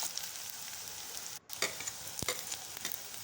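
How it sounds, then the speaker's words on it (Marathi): Spring onions being sautéed for veg fried rice, a faint steady sizzle with a brief dropout and a couple of light spatula taps, quiet and close with no speech. "त्यानंतर पातीचा कांदा घालणार आहे यामध्ये 2 चमचे आणि व्यवस्थितरित्या परतून घेणार आहे"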